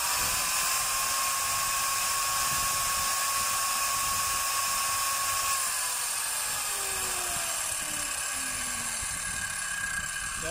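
A DeWalt D23620 circular saw, just repaired after a wiring fault, runs on test with a high steady whine that holds level, then drops in pitch as it spins down near the end; no talking.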